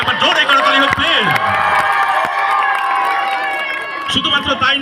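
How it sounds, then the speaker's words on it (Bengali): Crowd clapping and cheering for an athlete being honoured at a felicitation ceremony, steady loud applause with shouts throughout, swelling again near the end. "তার জন্য একবার জোরে করতালি হোক প্লিজ"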